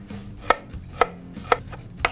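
A knife chops ginger and garlic on a board in four evenly spaced, crisp, close thuds about half a second apart, with no voices.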